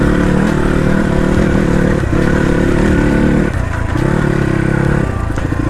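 A Crossfire RM250 dirt bike climbs an open off-road trail near Sakhu, engine loud and close with continuous throttle, brief dips and surges in revs, and clattering over rough terrain.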